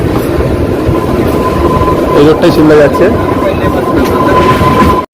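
The Kalka–Shimla toy train runs past on its narrow-gauge line with a loud, steady rolling rumble and wheel clatter, while a person talks over it.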